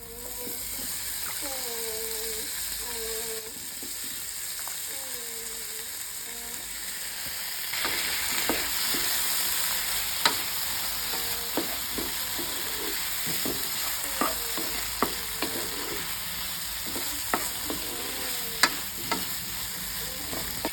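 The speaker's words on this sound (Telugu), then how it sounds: "ఉల్లికారం పచ్చి వాసన పోతుంది పసుపు వేయాలి వంకాయ ముక్కలు వేయాలి" Eggplant pieces fry in a pan of onion chili masala with turmeric, giving a steady soft sizzle. A spoon scrapes and clicks repeatedly as it stirs; a voice talks quietly over the frying at the start.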